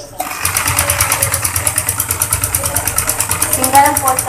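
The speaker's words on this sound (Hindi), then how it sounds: "सिंगल हम फोल्ड करते जा रहे हैं और सिलाई लगाते जा रहे हैं" A sewing machine stitches a single-folded hem on a baby frock, running at a fast, even rhythm of close, loud mechanical pulses that barely vary from start to finish.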